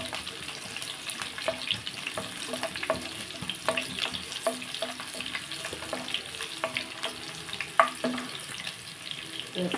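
Crushed garlic and dried red chilies frying in a pan make a close, crackling sizzle with light spatula scrapes and occasional sharp pops, steady throughout and free of talk.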